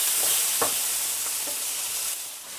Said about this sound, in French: Je mets les tomates.